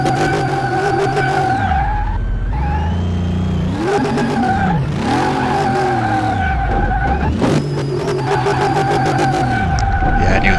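A car in Car Mechanic Simulator 2018 skids around a track, tires squealing in long wavering howls over a loud, revving engine that rises and falls repeatedly, close and sustained throughout.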